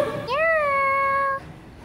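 A cat gives a single clear, rising-then-level meow lasting about a second, close and loud in an indoor shop setting, with faint background murmur before and after.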